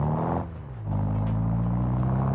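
Car engine and exhaust in BeamNG driving game, a deep droning rumble that dips briefly as revs drop, then settles into a steady, loud low hum with faint rhythmic ticks, no voices.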